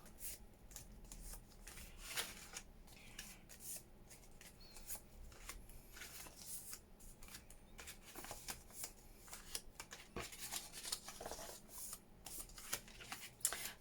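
Paper postcard envelopes for a junk journal are folded down and handled, producing quiet, continuous crinkling and rustling with small creases and taps, close and soft throughout.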